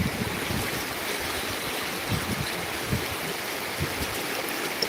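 Floodwater of the Manjari river in Beed rushing over a bridge, a steady, loud broadband roar of fast-moving water with wind buffeting, continuous and unbroken, no voices.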